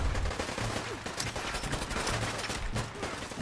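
Gunfire in Fallout 4 on current-generation hardware, a dense run of loud shots and bursts crackling over busy game noise for a few seconds with no talking.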